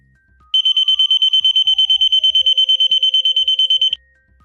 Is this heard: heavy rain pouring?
no